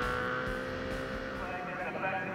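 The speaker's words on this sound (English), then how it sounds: "The revs rise" Superbike engines rev together on the starting grid, a dense, loud, sustained whine that holds steady with a commentator's voice over it.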